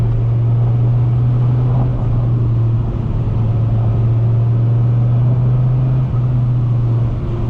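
A 2004 Dodge Viper SRT10 on a road drive, its engine holding a loud, steady low drone from the cabin with slight pitch wavers and no talking.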